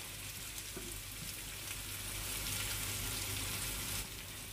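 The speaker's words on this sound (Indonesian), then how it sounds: "Sekarang kita biarkan bawang tu masak betul-betul layu dan perang-perang sikit." Onions fry and brown in a pan for a spicy chicken masala, giving a steady, moderately quiet sizzle and crackle that swells slightly toward the end, with no talk.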